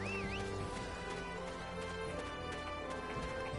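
Horse hooves clip-clop in a quick, steady rhythm over a continuous background hum, with no voices, in the video game Dynasty Warriors 9.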